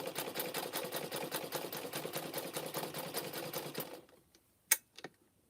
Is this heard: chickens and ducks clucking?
no